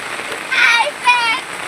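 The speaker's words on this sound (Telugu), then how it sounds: "బాగా వర్షం అయితే కురుస్తుంది" Heavy rain falling during downpours in Pedakakani, Guntur district, a steady close patter on surfaces, with a voice talking over it in two short bursts.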